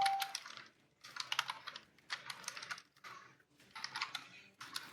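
A new computer keyboard is typed on in quick bursts of clicky keystrokes separated by short pauses, close and moderately quiet, with no speech.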